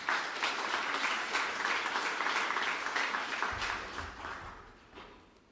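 Audience applause at a vocal festival concert in a hall, a dense steady wash of clapping that holds for several seconds and then fades.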